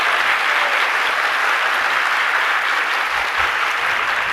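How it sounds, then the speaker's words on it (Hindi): An audience at a Jain religious discourse claps steadily, a broad, even wash of applause from many hands lasting the whole stretch at moderate level, with no talk over it. "हमारे ताली नहीं बजा रहे आप लोग"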